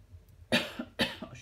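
A woman coughs twice in quick succession, close and fairly loud, each cough a sharp burst followed by a brief rough tail, with quiet room tone between.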